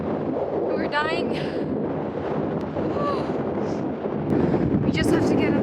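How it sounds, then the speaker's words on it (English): Strong mountain wind in the Dolomites near Cadini di Misurina buffets the microphone in a constant loud roar, with people talking and exclaiming over it. "You guys, it's so windy."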